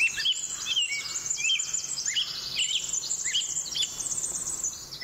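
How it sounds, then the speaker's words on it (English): Outdoor nature ambience of many birds chirping and singing over a constant bed of insect and cricket trilling, dense and continuous with no voices. "Actually, I want only the sounds of nature."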